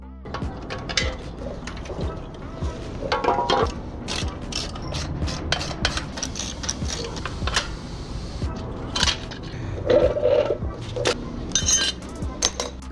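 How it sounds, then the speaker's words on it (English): A ratchet wrench clicks and clatters while working loose a hard-to-reach spark plug on a restored mini bike, with close, irregular bursts of ratcheting and metallic clinks. "I had a very difficult time taking off this spark plug"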